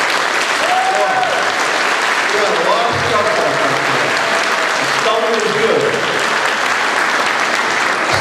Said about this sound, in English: How about a round of applause for the scouts?